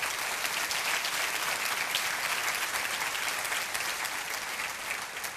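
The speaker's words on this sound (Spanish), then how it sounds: "Dele el aplauso." Church congregation applause during a Spanish-language sermon, dense sustained clapping from a large crowd filling the room evenly and loudly, steady throughout with no break.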